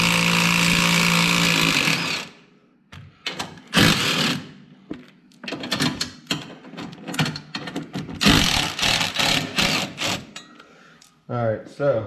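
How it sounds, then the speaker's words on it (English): A 13 mm tool removes four center bolts from a Turbo S winch bumper, opening with a sustained mechanical whir, then rapid loud rattling bursts of an impact tool, with someone talking between them. "Take a 13, pull these four center bolts out,"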